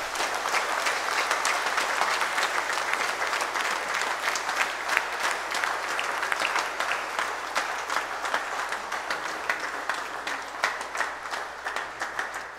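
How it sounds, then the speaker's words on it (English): Sustained applause from a congregation at an abbatial blessing ceremony for a new abbot, steady dense clapping at an even level throughout, with no voices over it. "Let us give Abbot Savio a round of applause."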